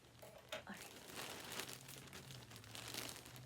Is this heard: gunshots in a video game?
no